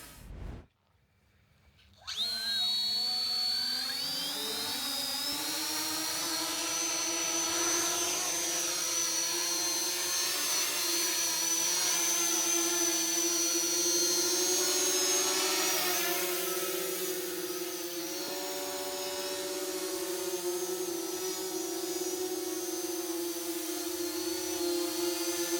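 Ardupilot VTOL quadplane built from a cheap Lidl foam glider hovering on quadcopter motors, a loud steady multi-rotor whine with layered propeller harmonics that starts abruptly after a brief quiet moment and holds nearly constant throughout.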